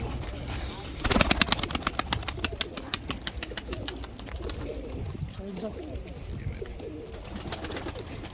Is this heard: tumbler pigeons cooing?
yes